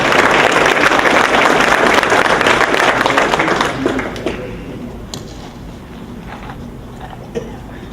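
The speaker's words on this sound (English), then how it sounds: "Let's give another round of applause for the first State of the City address." Luncheon guests at a State of the City address break into loud applause that lasts a few seconds, then thins into scattered claps and low crowd murmur.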